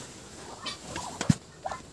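A few short, raspy duck calls come in quick bursts near the end, close and fairly faint against a quiet yard.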